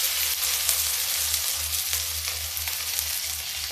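Grated bottle gourd and taro sizzle steadily in a hot pan, a dense continuous frying hiss with faint stirring, close up and without talk.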